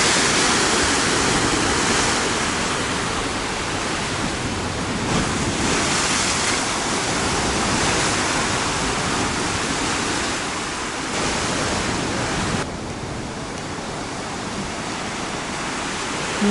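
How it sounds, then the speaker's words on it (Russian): Heavy surf crashes and roars continuously against nearby fortress walls in Alanya, Turkey, in December, a loud broadband wash with surging swells and wind noise, no voices. "Посмотрите, как вода разбивается о стены крепости."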